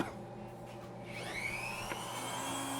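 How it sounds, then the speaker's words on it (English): Rotary grinder head carving a wooden duck decoy by hand, a steady close whine that rises in pitch around midway and holds a high sustained tone, with no talking. "We're just going to take our grinder head and follow those lines that we laid right in"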